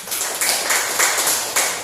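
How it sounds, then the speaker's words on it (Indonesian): A classroom of students applauding a group, a dense, even run of claps fairly close with little talk over it. "Kita beri tepuk tangan untuk kelompok 1"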